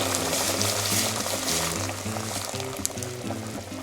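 Water poured into a cooking pot holding nettles, potatoes, garlic and onion, a steady continuous pour lasting throughout, close and moderately loud, with no talking.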